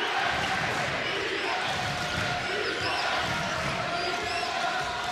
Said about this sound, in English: That gets the crowd here at Carnesecca on its feet.